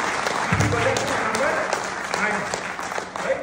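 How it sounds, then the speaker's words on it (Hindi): An audience at a guru-shishya gathering in Alwar breaks into loud clapping, a broad sustained patter of many hands with a voice speaking over it at moments. "जोरदार तालियां होनी चाहिए"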